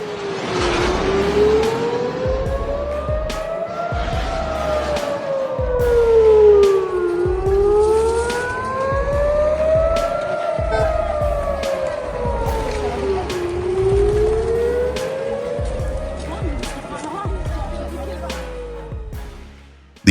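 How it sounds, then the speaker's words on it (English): Air raid sirens wail over Tel Aviv and surrounding cities during a rocket attack, rising and falling in overlapping slow sweeps across a wide area, steady and loud throughout with faint background noise. "Sirens echoed across cities, from Tel Aviv to surrounding regions."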